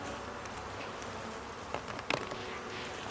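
Soft, continuous buzzing of honeybees hums quietly throughout, with a couple of faint knocks near the end.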